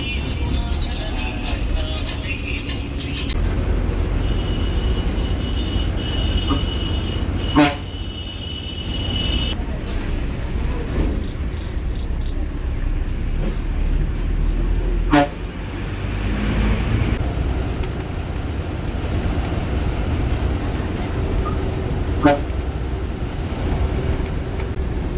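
TNSTC state bus pulling away from a stand on the Thiruthuraipoondi–Velankanni–Nagapattinam route: a low steady engine rumble with road noise inside the cabin, punctuated by three short sharp horn blasts spaced several seconds apart.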